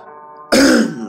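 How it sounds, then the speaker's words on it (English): A single loud, close throat clearing bursts out after a half-second of quiet hum, then fades. "So I'm gonna try to clear my throat."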